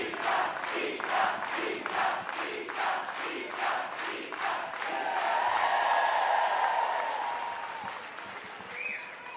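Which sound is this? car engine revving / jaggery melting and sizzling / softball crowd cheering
softball crowd cheering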